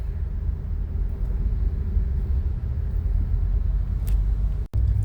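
Heavy traffic on a busy multi-lane road in Manila, a dense, continuous low rumble of many cars and engines passing close by, steady and loud throughout with no voices.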